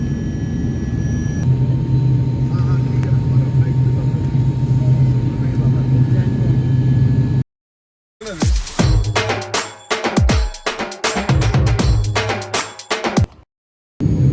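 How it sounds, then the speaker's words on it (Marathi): Loud, steady airplane engine roar fills the first half, then cuts off abruptly; people talk over a quieter rumble afterward. "तर आमचा प्लेन आता टेक ऑफ घेत आहे"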